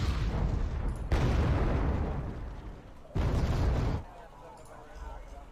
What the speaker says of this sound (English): we got a cluster strike coming in to try to clear this little patch of trees